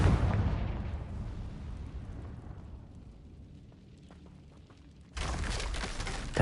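Confringo spell blast in Hogwarts Legacy: a loud burst of explosion that fades slowly into a low rumble, then another loud, abrupt noise bursts in near the end, with no talking.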